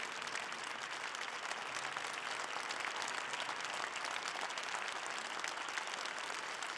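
An audience at a church convention gives a bishop's address a sustained, dense round of clapping, even and full throughout with no voices rising above it.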